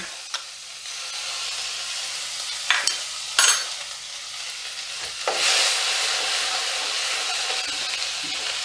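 Ginger paste fries in hot oil in a pan for paneer butter masala, giving a steady close sizzle broken by a few sharp scrapes and knocks of the spoon, then a louder hissing burst as stirring continues.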